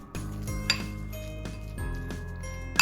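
Pesto and tofu being mixed in a dish, with close utensil scrapes and clinks against the bowl, a few sharper knocks standing out over a steady low background.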